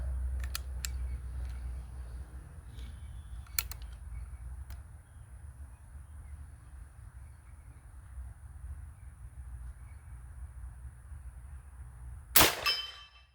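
Airgun firing a slug at a steel target out in swampy brush: a near-silent stretch with a few faint clicks, then one sharp, loud crack with a brief bright ring near the end.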